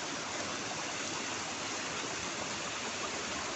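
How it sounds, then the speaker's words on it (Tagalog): Fresh alkaline spring water at a hidden spring, flowing in a steady broadband rush, loud and close, unbroken and without voices. "Ito na yung sariwang tubig"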